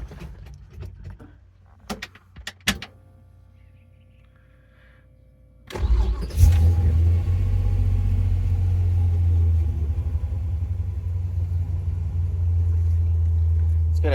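A 1957 Chevy Bel Air with a fuel-injected 350 and 2.5-inch chambered X-type exhaust starts up after a few quiet clicks, catching with a burst and settling into a loud, steady, rumbling idle close by.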